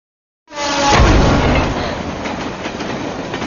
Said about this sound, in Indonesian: akhirnya Adi pun harus tewas ditabrak kereta api